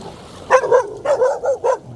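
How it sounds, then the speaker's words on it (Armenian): Stray dogs bark on school grounds in a quick burst of four or five sharp, close barks within two seconds. "հենա շները"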